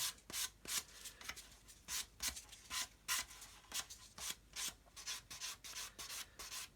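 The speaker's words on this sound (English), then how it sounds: "This is a 600 grit sponge, and just sand over there." A 600 grit sanding sponge rubs over a model wingtip to round it, in quick, rhythmic, close scratchy strokes with brief pauses between passes.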